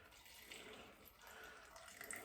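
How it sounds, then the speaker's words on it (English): A steady stream of water runs from a tap, a continuous soft hiss and splash throughout, fairly faint and close. "let me put some water in this."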